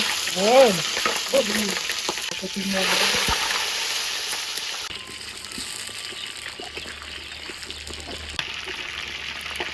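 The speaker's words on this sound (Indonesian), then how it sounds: "Ayamnya digoreng sik lor." Chicken frying in hot oil in a village kitchen for spicy basil chicken, a loud crackling sizzle with a few clattering knocks early on, settling into a steadier, quieter bubbling fry for the rest.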